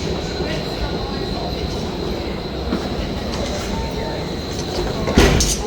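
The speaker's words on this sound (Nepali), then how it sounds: "दामी छ है टाउन स्टेसन।" Train rumbling through a town railway station, a loud steady rolling roar with a faint high whine and a brief clatter near the end; a person can be heard talking over it.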